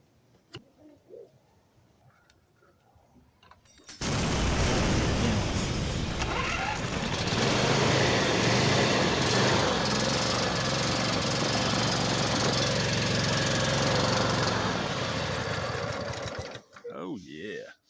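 A John Deere Z245 lawn mower with a 23 hp engine cranks and fires up after fuel is added to the carburetor, then runs at a loud, steady, close idle for about twelve seconds before cutting out, with a voice briefly audible.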